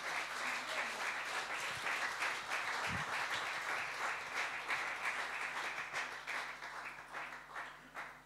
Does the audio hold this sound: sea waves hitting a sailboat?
no